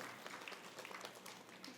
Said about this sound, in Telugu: వారికి ఒక్కసారి గట్టిగా క్లాప్స్ కొడదాం మిత్రులారా.